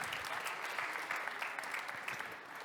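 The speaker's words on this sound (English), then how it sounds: "So we had Inventure. Round of applause." Audience clapping for pitch presenters at a tech conference, a steady patter of applause from a moderate crowd heard at a slight distance, continuous for a few seconds.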